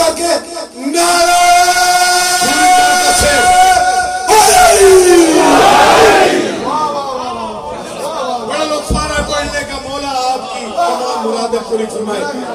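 A large religious gathering chants a slogan loudly in unison with raised hands, a dense wall of many voices that swells and rolls in repeated surges, close and sustained throughout.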